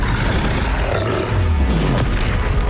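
A Confringo blasting curse from Hogwarts Legacy lands as a dense, roaring boom that swells through the middle of the burst, loud and close amid continuous spell-combat din.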